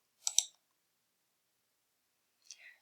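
Two short, faint computer mouse clicks, isolated and separated by about two seconds of silence.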